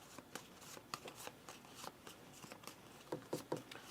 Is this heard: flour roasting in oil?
no